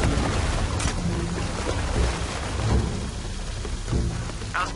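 Steady rain pours through a stormy scene in the video game Shadow of the Tomb Raider, a dense constant hiss of drops with low rumbles beneath, no speech.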